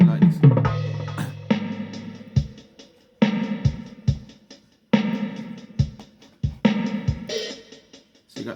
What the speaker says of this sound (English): So I put some kick drum down, some hi-hat and snare.